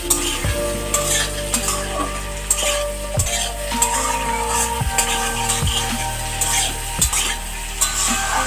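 Chopped green chillies go into chilli chicken frying in a pan, with steady loud sizzling and repeated sharp scrapes and knocks of a spatula against the pan.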